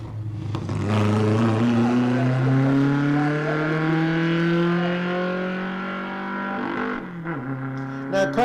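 A Datsun 1200 races through a historic sprint event at Leyburn, its engine note holding loud and steady while climbing in pitch through the gears, with a brief dip near the end and commentary-style voices faint underneath.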